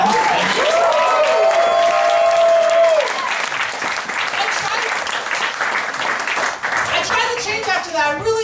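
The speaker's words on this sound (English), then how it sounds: "Round of applause for Madison, Wisconsin." Comedy club crowd at a Madison, Wisconsin cabaret breaks into loud applause, starting under a sustained held voice and cheers, then thinning into scattered clapping as talk returns near the end.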